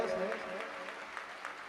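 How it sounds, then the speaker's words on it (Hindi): An audience at a Guru Purnima satsang at Karauli Dham claps for the guru, with a steady, moderately loud patter of applause following a voice speaking through amplification. "एक बार जोरदार तालियां परम पूजनीय गुरुदेव के लिए।"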